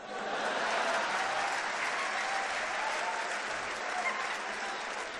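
A live audience at a Hindi comedy poetry show applauds steadily for several seconds: a dense, even wash of clapping from a large crowd, with no voices over it.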